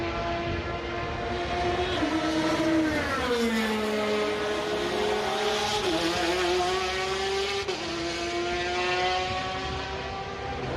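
An LMP1-class race car engine in a Daytona 24-hour racing game roars steadily at high revs, its pitch rising and falling through gear shifts and throttle changes, loud and close with no talk over it.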